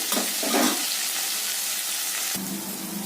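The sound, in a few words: pirandai (adamant creeper) sautéing in a pan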